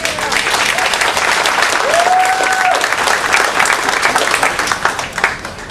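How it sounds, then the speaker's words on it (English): Sustained applause from an audience at an event aboard a cruise, a dense steady wash of clapping lasting throughout, with a brief tonal whistle-like sound and faint voices mixed in. "they really deserve a round of applause for that"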